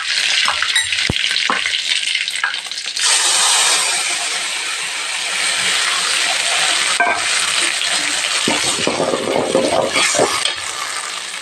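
Mustard seeds and dried red chillies fry in hot oil for a South Indian curd gravy. There is a loud, continuous sizzle with crackles and spatter, and some clinks of a spoon against the pan.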